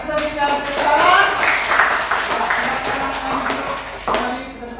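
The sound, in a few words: classroom applause for group 4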